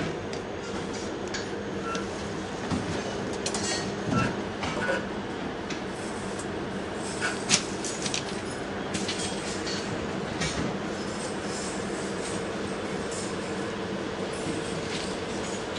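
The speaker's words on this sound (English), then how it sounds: "they decoupled the train, so that train engine's being pulled away, locomotive." A train locomotive rumbles and clanks as it pulls away after decoupling from the train, steady mechanical noise with ticking, metallic clatter and faint wheel squeals throughout.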